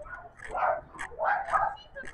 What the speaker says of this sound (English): sorry about all of that barking noise